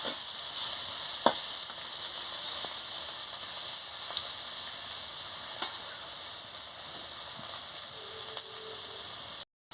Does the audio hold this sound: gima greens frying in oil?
yes